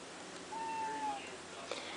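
A hungry pet cat gives a single drawn-out meow, clear and fairly close, over a quiet room with faint background noise and a small click near the end.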